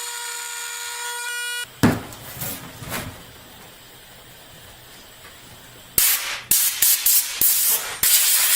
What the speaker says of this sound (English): Now I'll use my rotary tool and go ahead and widen out those cracks